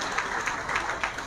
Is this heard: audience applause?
yes